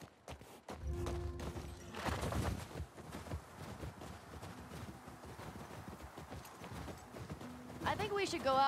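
Horse hooves clip-clop steadily on the ground in The Last of Us Part II, with a horse snorting and neighing toward the end, while people talk over the gameplay.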